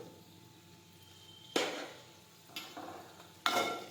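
Okra sautéing in a pan with turmeric, cumin and salt, a soft low sizzle broken by three sharp stirring scrapes against the metal.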